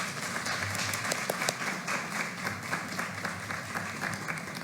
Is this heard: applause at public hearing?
yes